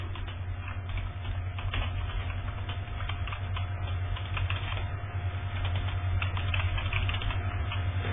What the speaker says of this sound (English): Oh, fine, I'll type it out.